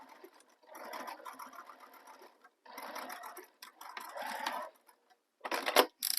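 Sewing machine slowly stitching a handbag near its handle, running in several short bursts with brief pauses between them.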